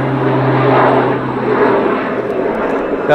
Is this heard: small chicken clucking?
no